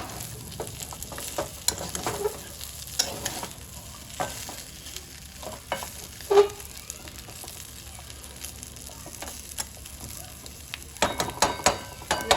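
Chicken with coconut frying in a pan, a continuous close sizzle punctuated by scraping stirs and occasional clinks of the spatula against metal.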